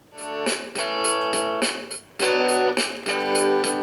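Clean electric guitar tone through a Mooer GE200 multi-effects unit with compression, a pure boost, EQ and a little delay, playing a sustained chord phrase with steady rhythmic strums, captured on a phone recording.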